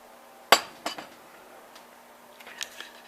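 A metal spoon strikes a dish with one sharp clink, followed by a few softer taps and light clatters, close and clear in a quiet room.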